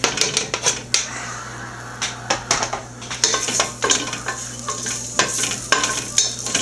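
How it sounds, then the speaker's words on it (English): Garlic sizzling in a hot pan, with steady frying crackle and repeated sharp scrapes and clinks of a utensil stirring against the pan, close and fairly loud. "Just throw the garlic in first."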